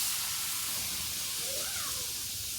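Leafy greens (shak) cook in a pot in a mud-walled village house, giving off a constant broad steam hiss with faint bubbling, close and steady throughout.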